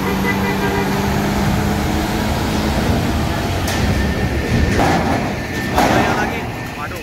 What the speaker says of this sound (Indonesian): Wow, ngebut sekali bus Panjaya.